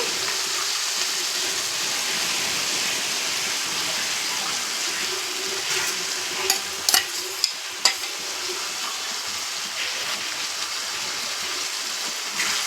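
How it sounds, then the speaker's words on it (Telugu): Ground tomato, cashew and peanut paste being stirred into a bean gravy in a pan: a steady close sizzle and scraping stir, with a few sharp spoon clicks toward the end and no talk. "వేసి బాగా కలగిద్దామండి కలుపుకోవాలి బాగా ఇట్లా"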